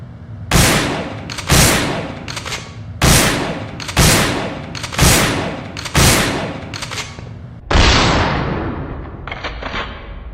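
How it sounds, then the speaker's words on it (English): Loud, close SPAS 12 shotgun blasts in Resident Evil: Dead Aim, six heavy booms spaced about a second and a half apart, each with a brief pump-action clack before a final longer-ringing shot. "let's test the shotgun out. Alright, it's the SPAS 12 it seems."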